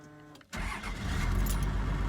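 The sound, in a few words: car engine starting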